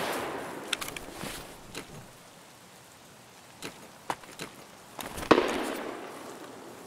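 Sharp, scattered cracks of gunfire in Escape From Tarkov on the Streets of Tarkov map, a handful of irregular distant shots with one louder, closer report near the end, set against a quiet background.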